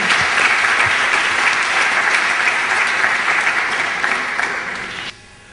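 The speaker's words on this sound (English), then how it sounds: "please give a round of applause for our moderator for this evening, Ismail Kala." Steady applause from a lecture audience welcoming an evening moderator, loud and sustained for about five seconds before cutting off abruptly.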